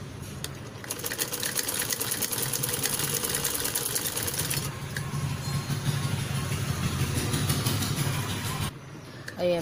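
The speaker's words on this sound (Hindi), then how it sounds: "अब हम इसकी साइड की ओर स्टिचिंग कर लेते हैं।" A sewing machine runs nearly continuously while stitching the side seams of a kurti, a steady close whir that pauses briefly at the start and near the end, with no talk over it.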